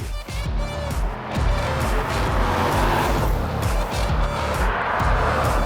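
A 5.7-litre V8 in a Ram 1500 pickup roars loudly and steadily under hard acceleration, a deep rumbling engine note that swells and surges throughout, heard close with no talking.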